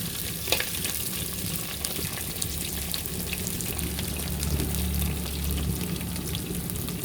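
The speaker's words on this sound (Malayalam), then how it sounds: "പിന്നെ വെളുത്തുള്ളി, എന്നിട്ടൊന്ന് ഇളക്കി കൊടുക്കും." Garlic sizzling in hot oil in a pan while cooking a Kottayam-style mackerel curry, a steady close crackle of frying with occasional scraping from stirring throughout.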